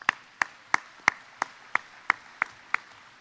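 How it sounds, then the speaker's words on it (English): Sparse applause at an Ohio State Fair event: about nine distinct, evenly spaced claps from one or two people nearby in a quiet room, with no talking. "Give them a round of applause"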